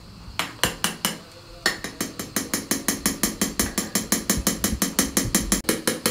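Milk being stirred in a pot on a lit stove gives a quick, even run of bright metallic clinks, about four per second after a short pause, loud and close with no talking.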